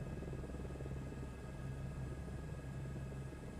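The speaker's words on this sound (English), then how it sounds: "So this is the most powerful helicopter in the game." The most powerful helicopter in the Flight Simulator video game, flying near Mount Everest: a steady, droning rotor thrum with an even, pulsing beat, constant and unbroken, heard alone.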